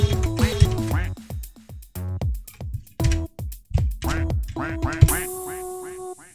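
A cartoon duck quacks in the Friday Night Funkin' mod VS Tree, a string of bright, nasal quacks set against the game's dense, rhythmic music and loud throughout.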